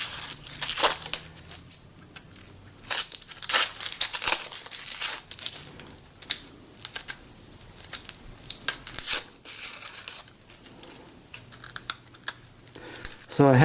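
Papery onion skin is peeled off a medium onion by hand, giving close, continuous crinkling and crackling with irregular sharp tearing bursts.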